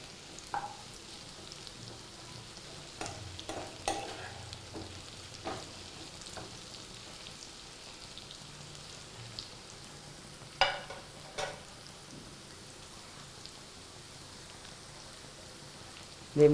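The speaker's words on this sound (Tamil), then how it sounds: "இந்த வெந்தயத்தை நம்ம லேசாக வறுத்து பிடிச்சி வச்சுக்கிறோம்." Fenugreek seeds lightly roasting in a pan for Kerala-style bitter gourd pickle, giving a faint, low dry crackle with scattered sharp clicks and scrapes of stirring, no voices.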